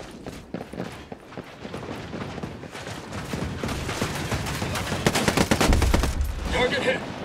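Rapid gunfire bursts crackle in the tactical shooter Ghost Recon Breakpoint on extreme difficulty, dense volleys building in intensity and ending with a heavy low thump, with voices talking in between.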